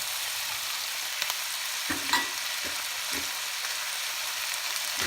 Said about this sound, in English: Let's saute this for 30 seconds.